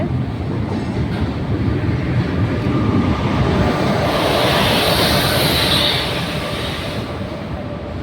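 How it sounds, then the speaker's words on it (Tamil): A train bound for Trichy rumbles steadily along the rails, close and loud, with dense wheel noise and a faint high squeal swelling midway. No one speaks over it. "திருச்சி ட்ரெயினுங்க."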